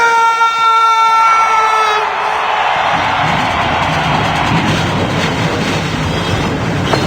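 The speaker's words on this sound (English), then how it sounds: "Drivers, start your engine!" Race car engines starting together at Kansas for an ARCA Series race, a tonal drone giving way to a loud, sustained, broad roar of many engines.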